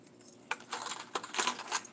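Squarebill crankbait lure shaken by hand, a few quick close rattling clicks in short bursts, faint and alone.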